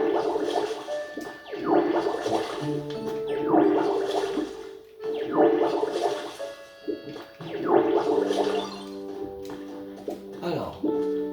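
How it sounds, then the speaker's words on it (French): Water gun spraying in the Pokémon Pokopia video game, repeated whooshing spray bursts roughly every two seconds over a tonal game music bed, with someone talking over it. "on va faire pistolet à l'eau. On va un peu arroser"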